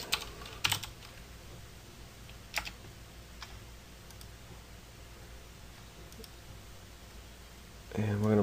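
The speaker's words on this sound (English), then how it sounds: "what I'm going to do is type in police" Keys tapped on a computer keyboard while entering text in 3D modeling software, a few sharp separate clicks near the start and again around the third second over steady quiet room noise, with no talking.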